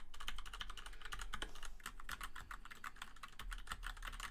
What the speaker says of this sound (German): Tastatur klappern, Rode NT, USB, mechanische Tastatur.